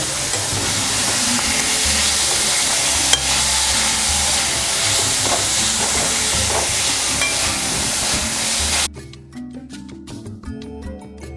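Mutton keema frying in a pan with onion, a dense, loud continuous sizzle and hiss with stirring scrapes, dropping suddenly to a quieter simmer near the end.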